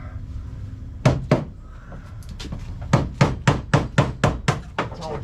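A hammer drives a wood chisel into wood during an indoor fireplace air intake pipe job, giving a few sharp knocks, then a quick, evenly spaced series of close, solid wooden thunks.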